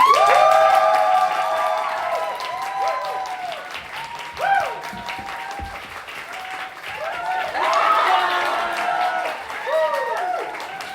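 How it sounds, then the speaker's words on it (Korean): An audience at a university drama club's spring theatre performance claps and cheers for several seconds, a dense, loud, steady applause that swells again near the end, with voices calling and talking over it. "박수!"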